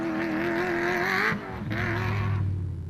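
A Forces BMW X3 cross-country rally car roars at speed, its engine note droning steadily and loud, then dipping and shifting pitch as it passes, with no voices.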